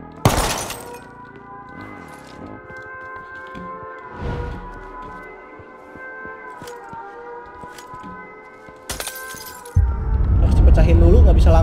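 Glass shatters in a battle royale video game. A sharp smash at the start is followed by a sustained siren-like tone and further crashes, with a louder burst of noise near the end. Someone talks during the clip.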